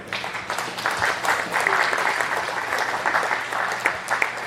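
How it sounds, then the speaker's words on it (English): At the close of a talk on PG&E's damaged infrastructure and its effect on irrigation and streamflow, an audience gives speaker Greg a last round of applause, moderate and continuous clapping from a modest crowd. "if we can give one last round of applause to Greg"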